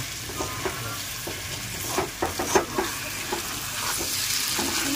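Chicken sautéing in a pan for a gravy, a close, steady sizzle with intermittent spatula stirs and scrapes clustered toward the middle.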